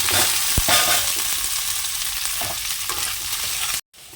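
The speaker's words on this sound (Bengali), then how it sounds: "এটা একটু বেশি করেই ভাজছি" Food fries in a pan with a loud, continuous close sizzle and occasional stirring knocks, cutting off abruptly near the end, with no voices.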